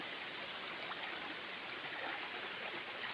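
Water at Tat Ton waterfall rushes in a steady broadband roar, constant and unbroken, with no voices over it.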